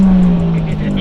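A Toyota JZX110 Camry with a stock turbo JZ engine revving, a loud, close, steady engine drone held for about a second.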